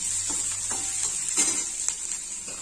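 Onion and carrot sizzle steadily in a hot pan for a light fry, while a spoon stirs through them with soft scraping strokes, close and fairly loud.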